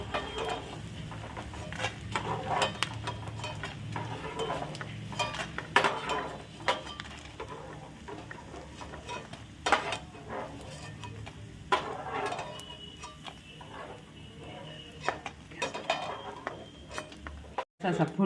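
Something frying in hot oil in a pan on a gas stove, a steady soft sizzle with occasional stirring clinks and taps against the pan, continuing at an even level.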